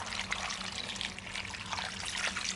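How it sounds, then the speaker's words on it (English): Water pours steadily into a cooking pot holding ham hocks and vegetables, a soft, fairly quiet trickle and splash with no talking. "Next, we're going to add in some water."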